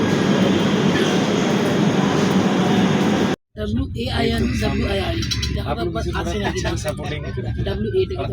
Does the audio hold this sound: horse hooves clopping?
no